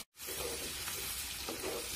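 Garlic paste sizzling and frying with cooked onions in a hot pan, a steady close hiss after a brief silent start, with faint stirring scrapes.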